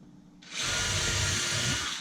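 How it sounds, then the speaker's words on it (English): A power drill starts up and bores steadily into wooden window casing, pre-drilling holes near its front edge, with a loud, continuous whirring grind for about a second and a half. "I'm actually going to go ahead and pre-drill a couple holes on the front edge of my casing"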